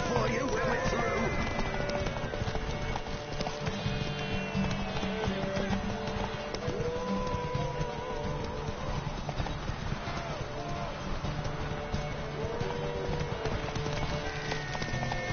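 Horse galloping in the video game Witcher 3: steady, rapid hoofbeats drum continuously and loudly throughout, with music and a voice over them.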